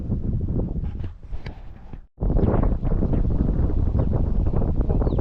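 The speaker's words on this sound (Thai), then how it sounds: "ลมแรงต้นไม้โยกเลยครับ" Strong wind gusts buffet the microphone and shake trees at a natural fishing spot, a loud, rough roar that dips briefly near two seconds before surging back and blowing steadily.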